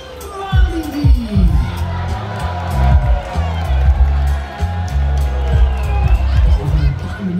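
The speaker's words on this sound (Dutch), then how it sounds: "Geef hem een groot applaus, Walibi!" Excited crowd of children at a Walibi theme park Halloween show cheering and shouting, loud and continuous with scattered claps and a busy babble of young voices throughout.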